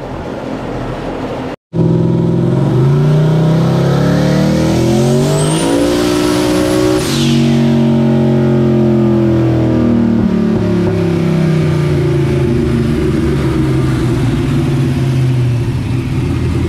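Turbocharged car engine on a dyno, revving hard and steadily at close range after a brief cut near the start, holding a loud, sustained roar with a rising whine partway through.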